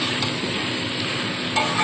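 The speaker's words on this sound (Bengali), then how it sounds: "ভালো করে এবার নাড়াচাড়া করে নিয়ে এর মধ্যে আমি 2 চামচ ধনে গুঁড়ো দেবো" Malabar spinach being stirred with spices in a hot pan, giving a brief steady sizzle with soft close scraping and no voice.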